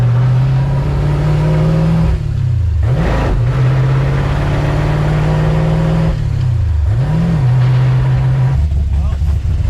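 LS-swapped International Harvester Travelall wagon on a dyno, its V8 droning loudly at steady revs, dipping and rising twice as the pulls change, with the engine filling the whole stretch.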